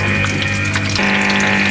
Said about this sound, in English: And that's the noise of the pump.